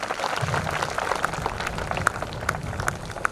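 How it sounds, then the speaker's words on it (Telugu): An audience claps together at a college orientation day, a dense, steady patter of many hands that fills the hall for a few seconds. "ఒకసారి క్లాప్స్ కొడితే నాకు వినాలనుంది"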